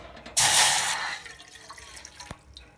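About one and a half cups of water poured into a pan on a gas stove: a loud, splashing rush lasting about half a second, then a fading wet tail with faint drips.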